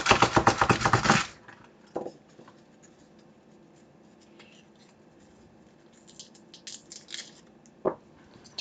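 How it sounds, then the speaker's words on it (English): Garlic cloves rolled in a rubber garlic tube peeler, a quick burst of close, rapid crackling and rubbing, then faint rustles and a couple of soft knocks in a quiet kitchen. "Get out our garlic tube."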